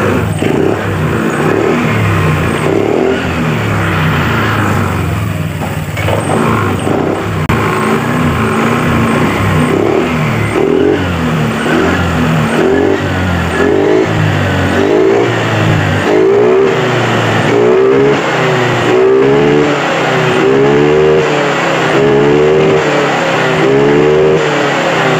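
A Honda Vario 125 scooter engine with a fault at high rpm runs steadily up close, its tone rising and falling through repeated revs over the whole stretch.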